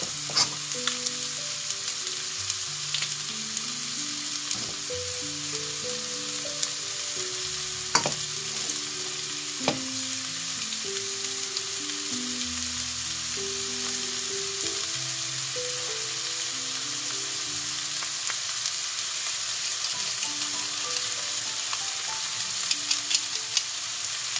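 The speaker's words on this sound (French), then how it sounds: "j'ai ajouté mes gousses d'ail" Crushed garlic cloves sizzle steadily in a pan on lowered heat for a simple seafood spaghetti, a close, continuous frying crackle with occasional stir clatter, and background music plays.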